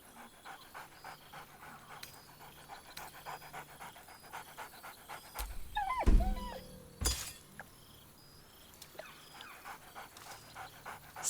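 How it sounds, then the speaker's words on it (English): A dog panting excitedly in rapid, steady breaths during a camp scene in the video game Baldur's Gate 3, with a glassy crash and rumble midway over a soft ambient background. "Scratch barks merrily in something like agreement."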